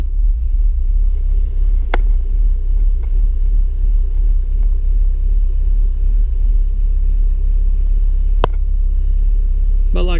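A 1992 BMW engine idles with a loud, steady low rumble and slight surging, close to the microphone, with a couple of sharp clicks along the way.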